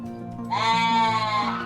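A goat bleats once, a clear close wavering cry lasting about a second over quiet farmyard background, with no talk.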